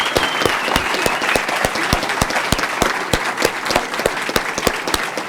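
Dense applause from an audience honoring a student class at a school Wall of Distinction ceremony, many hands clapping steadily and loudly throughout with sharp individual claps standing out.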